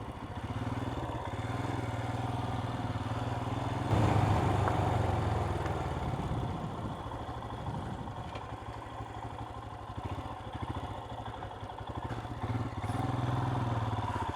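Royal Enfield Himalayan 411 motorcycle working slowly over rocks off-road, its engine a low, steady thumping rumble at modest throttle, swelling briefly mid-way, with faint clatter and wind noise.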